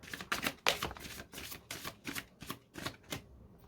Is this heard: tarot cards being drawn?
yes